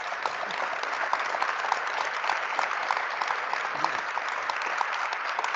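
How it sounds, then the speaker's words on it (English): An audience at an International Women's Day event applauds steadily for several seconds, a dense even wash of clapping with no voices over it. "Can we have a round of applause for all of them, please?"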